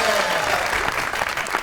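Studio audience applause on a Pakistani comedy show, a dense burst of clapping from a crowd, loud and sustained across the short stretch with a voice faintly mixed in.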